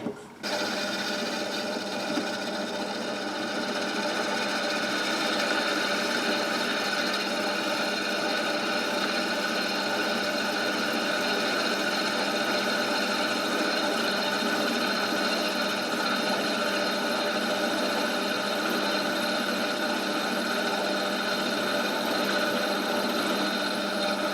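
A drill press works metal clamped in a vice, giving a steady continuous mechanical whir and hum at close range that runs unbroken from start to end.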